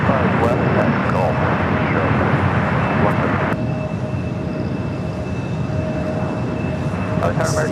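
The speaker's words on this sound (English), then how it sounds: "so that Air Tahiti Nui lining up. The one coming in from Paris." Air Tahiti Nui airliner lining up on the runway at LAX, a broad steady jet engine rumble with a thin high whine, heard from a distance amid outdoor noise, with faint talk.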